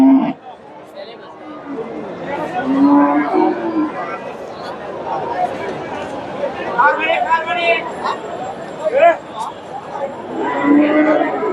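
Cows low at a busy cattle market in Bogura where Friesian cows are being sold, a few drawn-out moos rising over constant crowd chatter. Nearby people talk throughout.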